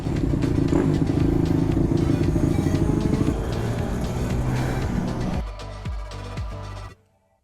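Minibike engines revving and idling as the bikes pull into the pit, loud and close, then dropping to a lower idle before cutting off near the end.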